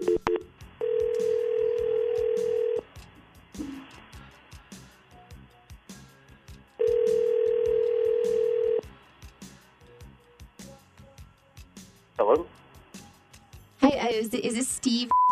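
Outgoing call ringback tones on a telephone, two long steady ring bursts separated by a pause, with faint ticking in between and a brief voice near the end.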